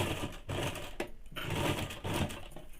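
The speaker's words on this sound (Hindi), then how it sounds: "अब मैं इसे आपको सिल के बताती हूँ। सबसे पहले तो हम लोग इसको लॉक करके ही शुरू करेंगे।" A sewing machine stitches men's underwear in short bursts of rapid, close mechanical whirring, stopping briefly between runs, with no voices.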